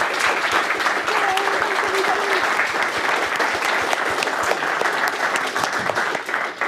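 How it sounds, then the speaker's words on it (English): A room full of people at an EdinburghJS meetup gives a steady round of applause, dense continuous clapping that holds at even loudness throughout, with a faint voice briefly audible underneath. "Can everybody give Kimberly another round of applause?"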